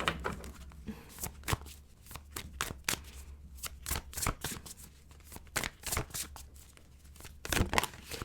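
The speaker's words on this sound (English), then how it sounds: "let's move on and pull some other cards." Tarot cards shuffle close up in a quick, uneven run of crisp riffling flicks and slaps that lasts the whole stretch.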